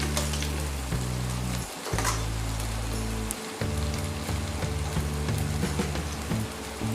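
Rice and vegetables stir-frying in a pan for simple veg fried rice: steady crackling sizzle with scraping clinks of a utensil against the pan and a low humming background throughout.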